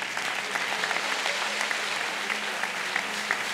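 Steady applause from a church congregation at a healing service, dense and continuous clapping filling the room with no break.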